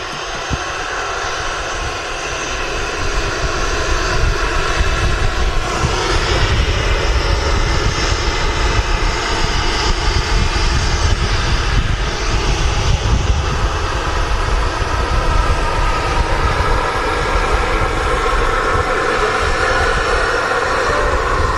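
Ryanair jet taking off at Manchester Airport, its engines building into a loud, sustained roar with a broad rumble that holds steady throughout, no voices over it.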